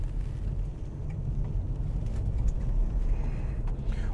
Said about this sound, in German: Ja, und jetzt gebe ich mal Gas.